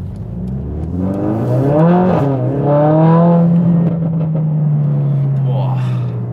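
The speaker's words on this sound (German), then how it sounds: "Wir fahren jetzt einfach mal los." A Mercedes-AMG A 45 S with 525 PS pulls away in Sport Plus mode. Its engine roars loud and close inside the car, climbing in pitch through a gear and then holding a steady, strained drone.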